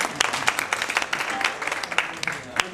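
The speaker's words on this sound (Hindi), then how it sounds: "आप सब ने मिलकर ये सब कुछ किया है, तो अपने लिए भी एक बार जोर से तालियां लगा लें" Audience at a qawwali show in Manchester clapping loudly, a close burst of many hands with sharp individual claps standing out, brief crowd voices mixed in.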